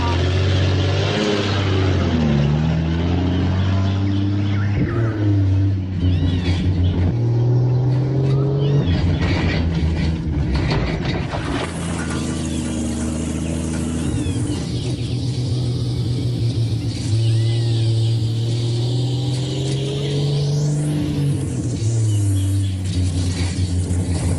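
A car drives fast over a rough road, its engine droning and revving with rumbling, rattling bumps throughout, loud and close, as voices talk over it.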